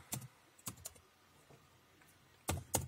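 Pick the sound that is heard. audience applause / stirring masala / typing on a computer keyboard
typing on a computer keyboard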